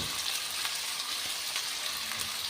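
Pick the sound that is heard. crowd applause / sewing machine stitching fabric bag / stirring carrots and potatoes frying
stirring carrots and potatoes frying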